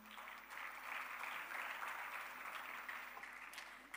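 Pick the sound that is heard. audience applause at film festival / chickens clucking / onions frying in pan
audience applause at film festival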